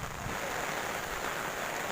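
Heavy rain falls in a dense, unbroken hiss that holds an even loudness throughout, with no voices.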